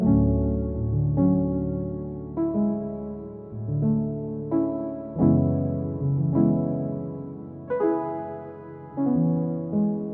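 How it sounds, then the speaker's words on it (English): A soft, lush Keys Classic Piano patch from Pandora Essentials plays two chords in an R&B beat, each chord struck and left to ring out, sounding alone and close. "This first song that I'm using is called Keys Classic Piano inside Pandora Essentials,"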